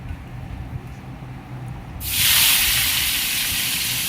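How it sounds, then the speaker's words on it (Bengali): Fish dropped into hot oil bursts into a loud, bright sizzle halfway through, after a quieter stretch of low kitchen noise, and the frying hiss then holds steady. "তেলটাও গরম হয়ে গেছে। দেওয়ার সাথে সাথে এদিকে মাছগুলো দিয়ে দিব আমি।"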